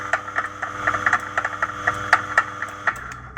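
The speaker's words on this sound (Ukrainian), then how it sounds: "Мотор поїхав." A steady mechanical hum runs under a series of sharp, rhythmic clicks and rattles, close by and moderately loud, from a sliding gate motor with a Gant BS-IZ control board driving along its track.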